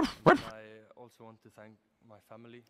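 A dog barks close by, a few sharp barks followed by a string of short, high, whiny yips and yelps with gaps between them.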